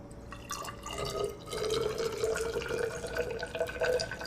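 About 50 millilitres of liquid pours into a container in a quiet, close trickle that swells and gurgles for a few seconds.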